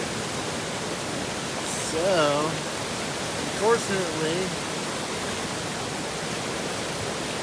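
A creek swollen by rain rushes steadily in the Shining Rock Wilderness of North Carolina, a constant broad hiss of flowing water with someone speaking briefly over it in the middle.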